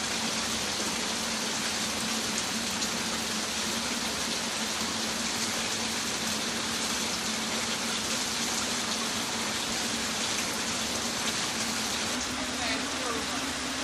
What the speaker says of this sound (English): Rain on my farm, my little farm is getting some nice rain.